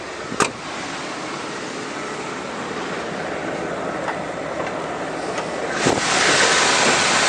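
A warmed-up 1992 Ford F250 4x4 engine idles steadily, giving a constant broad, even hum with a couple of faint clicks along the way.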